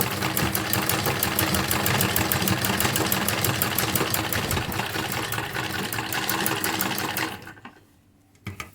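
An electric sewing machine stitching a wavy cuff design on a salwar, running in a fast, steady rhythmic whir for about seven seconds before stopping, with a few faint handling clicks after.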